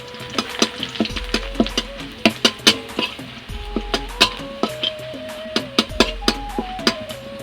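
Dried red chillies and bay leaves hit hot oil with already-fried onions, producing a steady close sizzle broken by sharp clinks and scrapes of a stirring utensil against the pan.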